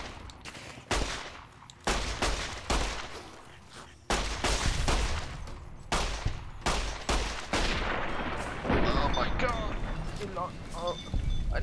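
A 9mm pistol fires in Fallout New Vegas: a rapid series of sharp, loud, close gunshots with irregular spacing, mixed with other busy game sounds.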